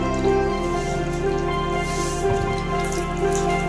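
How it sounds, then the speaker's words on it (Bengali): Water poured into a salted batter of katla fish roe for rolls gives a steady, close trickle with light dripping over a constant low hum. "পাতলা করতে হবে তাই আমি জল দিচ্ছি পরিমাণ মতো"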